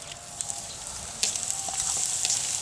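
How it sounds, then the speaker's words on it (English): Two small rough-chopped onions sauté in a pan, giving a steady close sizzle with light crackles and pops that grow a little louder as they are stirred, with no talking. "I'm just going to saute them for a little bit. I don't want them completely browned or anything, I just want them soft."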